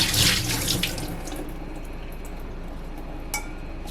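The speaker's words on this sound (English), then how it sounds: "Drain the rice using a strainer." Rinsed, soaked rice drains through a strainer, a loud rush of water pouring and splashing into a sink that fades into a soft trickle and a light clink.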